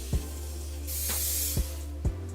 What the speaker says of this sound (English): I like to spray my baby hair with the Sebastian Shaper's hairspray before I even curl